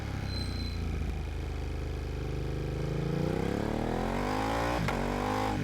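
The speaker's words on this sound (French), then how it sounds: "Rétrogradage à l'embrayage." Car engine revving during a clutch downshift, a continuous close drone whose pitch sweeps down and then climbs again as revs rise, with a brief knock near the end and no talking.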